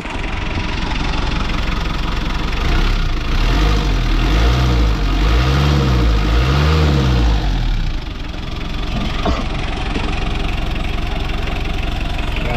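A Hyundai H-100 van engine idles steadily after starting, with a rough knocking, wavering chug that swells and fades in a repeating pattern, close and loud with no talking.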